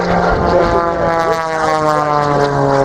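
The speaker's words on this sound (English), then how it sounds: "the most high-performance aerobatic biplane in existence today." A 400-horsepower aerobatic biplane at an airshow drones loudly and steadily overhead, its propeller engine a strong even harmonic roar with a slight pitch shift, no voices over it.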